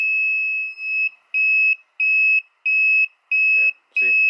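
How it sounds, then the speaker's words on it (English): An alarm on a powder coating oven beeps loud and shrill in a steady repeating pattern of long tones with short gaps, with a few faint handling noises near the end. "can actually show you the alarm's actually going off right now"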